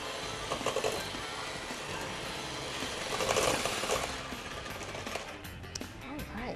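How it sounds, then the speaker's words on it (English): Electric hand mixer beating an egg into chocolate zucchini cookie dough, a steady loud whirring drone that lasts throughout with small swells in intensity. "I'm going to beat that in too with my electric mixer."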